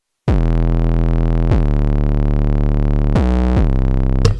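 An 808 bass beat from FL Studio booms loud and deep, with four sustained hits whose pitch slides downward, each ringing over a second, playing alone without any voice.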